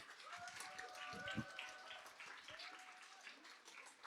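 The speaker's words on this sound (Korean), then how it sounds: "큰 박수로 모시겠습니다." An audience at a Korean business presentation in Daegu gives steady, moderately loud applause, a dense patter of many hands clapping that carries on throughout.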